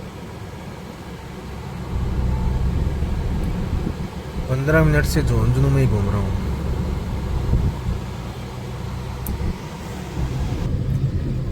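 A car idles and creeps through traffic with a steady low engine rumble and road noise, and a horn sounds briefly midway; someone talks over it.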